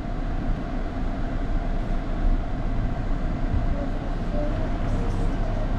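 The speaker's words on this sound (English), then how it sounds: "choo choo train." Continuous low rumble and rattle of a passing train, steady and fairly loud throughout, with no voices.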